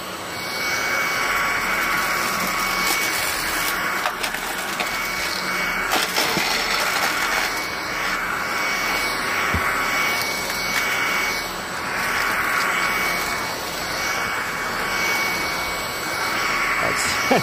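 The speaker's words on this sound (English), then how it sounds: "There's a lot of screws and everything what I'm picking up, so it's kind of a torture test," Aerus Veridian Endeavor Plus cordless vacuum picking up screws from carpet, giving a loud steady high whine throughout with occasional rattling clicks as debris is sucked in, and a voice talking underneath.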